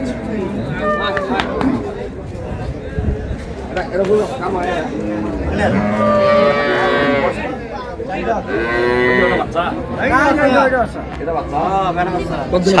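A bull calf moos several times, drawn-out and fairly loud, amid a crowd of people talking and general bustle at a cattle market in Dinajpur, Bangladesh.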